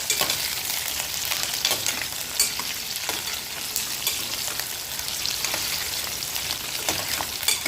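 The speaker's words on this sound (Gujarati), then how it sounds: "કઢી પત્તો, સિંગદાણા અને બરાબર મિક્સ કરી લઈશું." Curry leaves and peanuts sizzle steadily in hot oil in a pan for a Gujarati-style vagharelī khichdi, with close, continuous crackling frying and occasional stirring scrapes, no voices.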